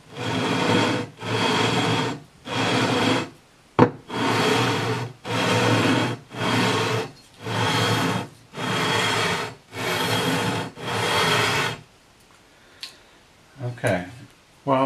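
Flat sanding beam faced with 320 and 400 grit abrasive scrubbing across the frets of a vintage Sakai/Audition electric guitar, about nine loud, even rasping strokes in steady rhythm, then a quieter stretch with faint handling noises.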